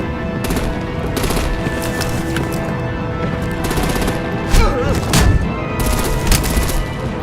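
Gunfire in the Batman: The Enemy Within video game, with sustained rapid bursts and booming shots forming a dense, loud battle bed throughout, occasional sharper blasts standing out near the middle.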